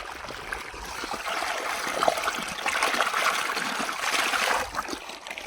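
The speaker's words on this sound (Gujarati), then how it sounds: "હવે પાણી આવે છે" Irrigation water rushes steadily into a farm field, a continuous close gurgling flow without pauses or speech.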